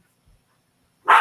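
A single short, loud bark rings out at the end, from dogs playing, after near silence.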